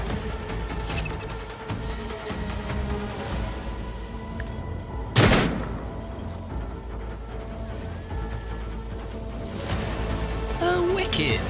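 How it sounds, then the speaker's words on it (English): Gunfire in Warhammer 40,000: Rogue Trader on PC: a single sharp, loud burst stands out midway over a steady bed of game music and ambience. "Through the smoke and gunfire!"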